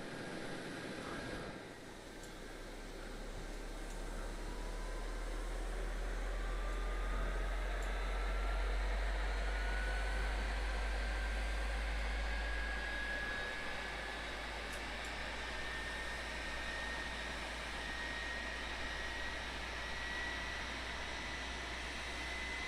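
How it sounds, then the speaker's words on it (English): Engine one of an FSLabs A321neo in Microsoft Flight Simulator spools up, heard from outside: a rising turbine whine over a deep rumble that builds for several seconds, then settles into a steady roar. "we'll start engine 1, and we'll jump outside for the sounds"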